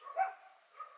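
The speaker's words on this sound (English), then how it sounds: "Does one hear the dulcet tones of a dog barking?" Dog barking somewhere in the distance, two faint muffled barks about half a second apart, heard alone.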